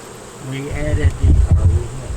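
Honeybees buzz steadily at a hive in a fenced yard, a close, continuous droning hum with individual bees swelling and fading past the microphone.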